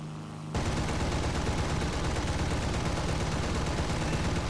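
Machine guns fire from a Bf-110 aircraft in the video game War Thunder: after a brief lull, a dense, loud and continuous rattle of gunfire sets in and holds steady to the end.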